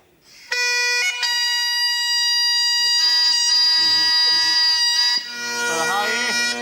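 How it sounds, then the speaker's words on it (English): Bagpipes blare with bright, piercing drones and a shifting chanter melody, loud and close, so shrill they resemble a fire alarm; the tune wavers and bends near the end. "It's not the fire alarm, it's Alistair Campbell on his bagpipes."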